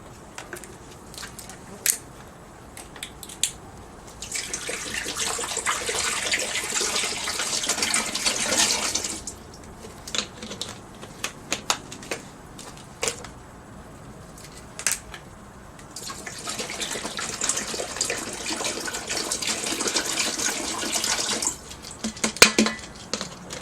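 Water runs from a tap into a pot in two long bursts, with clinks of pots and utensils and small kitchen knocks in between.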